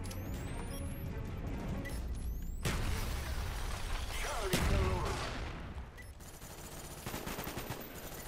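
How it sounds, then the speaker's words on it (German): Gunfire and a car blowing up in the Nuketown map of Call of Duty Black Ops, with dense, continuous shots throughout and a loud, sharp blast near the middle. "sofort das Auto zum Explodieren bringen"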